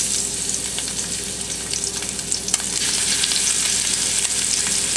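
Ling cod cheeks seasoned with salt, pepper and garlic powder fry in bacon fat, giving a steady, loud, dense sizzle with crackling pops throughout, growing slightly fuller midway with no voices.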